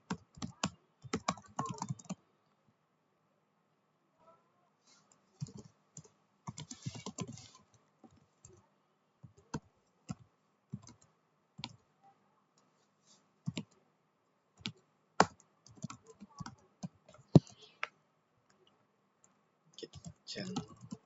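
Computer keyboard typing in scattered bursts of sharp clicks separated by pauses, with a voice talking between some of the keystrokes.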